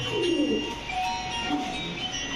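Pakistani breed pigeons at a market coo in a low, murmuring run, near and fairly soft, over a steady hum of background noise.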